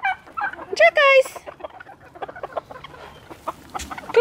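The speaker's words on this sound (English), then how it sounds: "it's one of the babies on the other side trying to crow" A young rooster in a barn attempts a crow, giving a few short, strained, rising calls near the start, then sparse clucks and barnyard noise. No one speaks.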